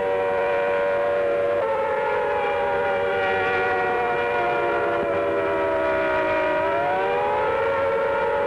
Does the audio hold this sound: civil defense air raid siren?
yes